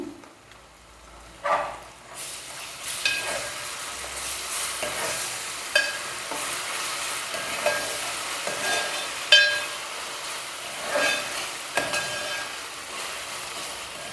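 Ginger garlic paste frying in hot oil for mutton kheema, a continuous soft sizzle punctuated by several sharp spatula scrapes and stirring knocks against the pan at irregular intervals, close by.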